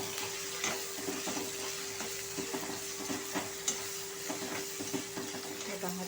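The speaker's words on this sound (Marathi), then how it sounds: "आता हे 2-3 मिनिटं आपण परतून घ्यायचं आहे मिरची" Green chilies sauté in a pan, giving a steady, close sizzle throughout with scattered light clicks and scrapes from stirring.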